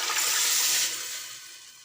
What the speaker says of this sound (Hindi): इसमें पानी ऐड करेंगे